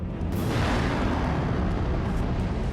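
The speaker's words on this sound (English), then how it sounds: "It'll explode outward and simply rip everything apart." A huge explosion effect of the Earth ripping apart, a dense, continuous rumbling roar with heavy low-end that holds at a loud, even level throughout with no distinct separate blasts.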